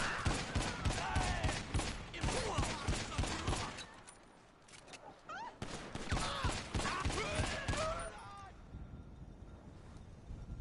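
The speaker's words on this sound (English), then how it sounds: "Let's try out my new gun" Bursts of gunfire from a newly acquired gun in Grand Theft Auto 5 Online, rapid loud volleys in two stretches separated by a brief lull, with some talk and wind-like noise underneath.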